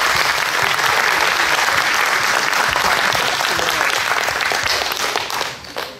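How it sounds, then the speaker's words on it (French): Audience at the Eloquence 2022 event bursting into sustained, loud applause, dense clapping from a large crowd that holds steady for about five seconds before tapering off at the end. "donc tonnerre d'applaudissements"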